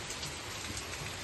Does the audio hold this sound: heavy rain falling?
yes